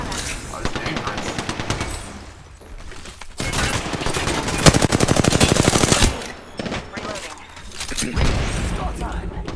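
Apex Legends gunfire rattles in loud, rapid automatic bursts with heavy booming shots and brief pauses between volleys, while voices talk over the combat.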